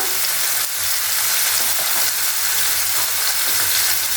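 Mandeli fish, small Bombay-duck-style fish, sautéing in a hot pan for a coastal Agri-Koli curry, giving a continuous bright hiss of frying, close and steady with no voices.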